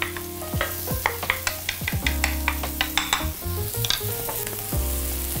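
Shallots sizzling in butter and olive oil in a pan, a steady fry with a series of sharp clinks and scrapes from stirring scattered across the few seconds, close and fairly loud.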